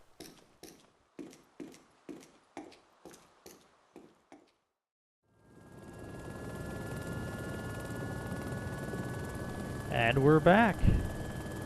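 Steady whine and rumble of a helicopter in the game DayZ, rising to a continuous drone after a run of rhythmic ticks, holding level with a brief louder swell near the end while someone talks over it.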